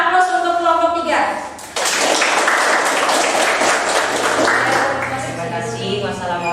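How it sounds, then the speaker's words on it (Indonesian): Classroom applause for a student group in a middle-school science lesson, a burst of many hands clapping that starts suddenly and runs steadily for several seconds, with voices talking before it begins. "Bagus sekali, kita aplaus untuk kelompok 3."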